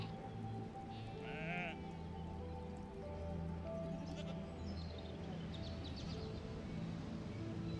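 Sheep grazing in a grassy pasture bleat faintly and at a distance, one or two short calls rising over a steady soft ambient bed, with no talk.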